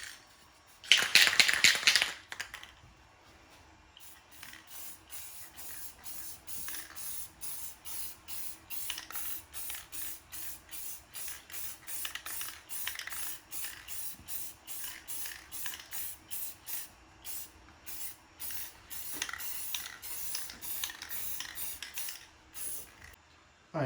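An aerosol can of Rust-Oleum metallic gold spray paint lets out one loud, close hiss at first. A long run of short, evenly paced spray bursts follows, with no talking.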